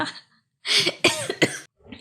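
A few hoarse, forceful coughs in quick succession, close and loud, with a brief pause before the last.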